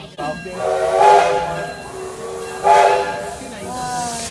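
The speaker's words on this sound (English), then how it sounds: "Then, the train departed." Steam train pulling out at the Hesston train museum, with two long steam whistle blasts over a steady hiss and rolling rumble, loud and close.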